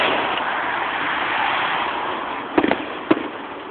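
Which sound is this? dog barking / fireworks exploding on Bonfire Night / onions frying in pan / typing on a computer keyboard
fireworks exploding on Bonfire Night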